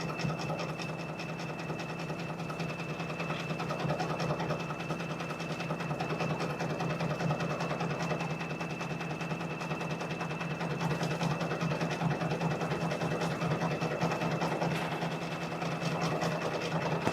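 A sewing machine stitches a bean stitch on a quilt project with leather stripes: a steady, fast mechanical whirring and rattling hum running continuously at moderate volume.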